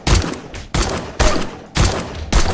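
Video game gunfire against a feral wolf, four loud bursts of rapid shots, each lasting about half a second and separated by brief gaps, close and dominant with no talk.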